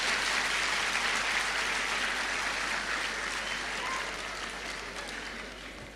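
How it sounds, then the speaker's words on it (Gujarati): An audience claps loudly and continuously to welcome Sanjay Raval to the stage, the dense applause easing slightly toward the end. "જોરદાર તાળીઓના ગડગડાટથી સાહેબને સ્ટેજ પર આવકારીએ."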